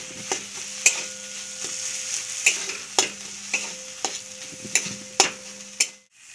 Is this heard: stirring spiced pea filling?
yes